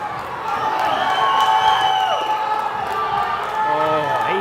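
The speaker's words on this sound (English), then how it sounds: "And the crowd goes wild." Spectators at a bouldering competition finals cheer and whoop, a lively crowd roar with shouts rising and falling while commentators talk over it.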